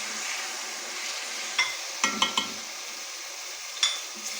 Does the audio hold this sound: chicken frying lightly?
yes